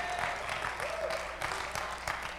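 A church congregation claps along during a praise service, with steady, moderately faint applause and clapping under singing or voices.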